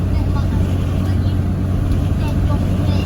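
Truck engine at full throttle pulling about 27,000 pounds of hay on an 8,000-pound trailer, a steady loud low drone with road and wind noise throughout.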